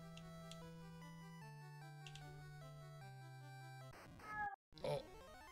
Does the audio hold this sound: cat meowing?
yes